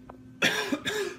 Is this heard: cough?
yes